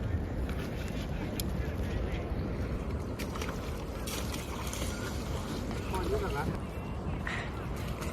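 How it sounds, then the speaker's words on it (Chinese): A small boat with a fan-like propeller at the stern works its way along the Yi River, heard as a steady low churning rumble with wind noise and some splashing. "这艘小船也来了啊，"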